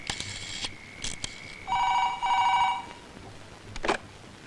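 An old telephone bell rings in short electronic bursts: several rapid trills, a sustained double ring in the middle, then one more brief burst, loud and close in a quiet room.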